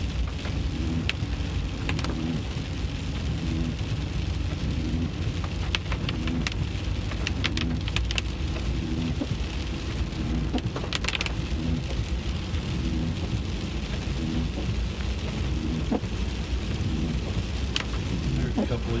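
Heavy rain pours steadily in Tennessee during flash flooding, a dense, constant hiss and patter on surfaces with occasional sharper drops and low rumbles, lasting the whole stretch without pause.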